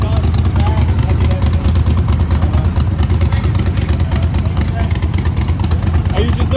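A custom-built car exhaust, fabricated by its owner, rumbles at a car show, a loud, close, throbbing idle with rapid pulsing that stays steady throughout, while people talk over it.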